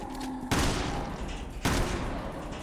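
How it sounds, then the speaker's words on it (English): Two loud, booming gunshots in Resident Evil 6, about a second apart, each with a sharp onset and a long ringing tail over a steady background of game noise. "I'm shooting him from the back."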